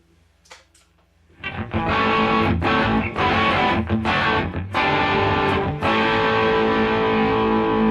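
Electric guitar played through a Prince of Tone Bluesbreaker-style pedal set to distortion, a quiet note then loud, sustained overdriven chords ringing continuously with brief picking breaks.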